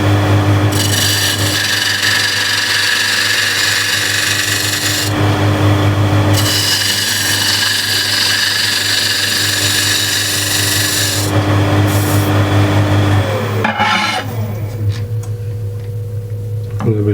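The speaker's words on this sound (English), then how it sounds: "And I'll do that actually with the spindle gouge." Spindle gouge cutting wood on a lathe while fixing mistakes on a turned piece, a steady loud rasping scrape with brief pauses near 5 and 11 seconds and a change in tone near the end, with no talking.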